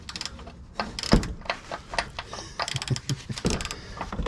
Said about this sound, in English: So we're going to loosen the oil filter housing.